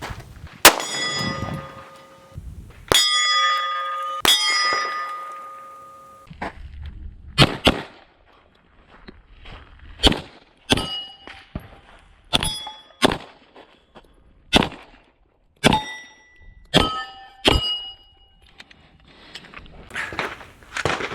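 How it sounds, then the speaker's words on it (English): A 9mm Smith & Wesson M&P M2.0 pistol fires rested rounds from 32 yards at a 10-inch steel gong. Sharp shots are each followed by a ringing metallic clang, spaced a second or two apart, with a louder, denser flurry at the start. "I'm going to be shooting from 32 yards with my arm rested, 5 rounds at that gong."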